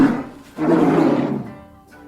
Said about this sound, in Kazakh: Ақ аю.